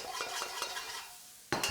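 Chili stir-fried in hot oil on high heat in a pan, with scraping and soft sizzling throughout, then a sudden louder burst of frying near the end.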